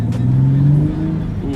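A Nissan 370Z with a Stillen Gen 2 intake revs hard, its loud, close engine note climbing steadily for about a second and then settling, with no other sounds over it.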